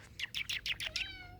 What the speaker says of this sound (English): Oh, look, it's the cat again.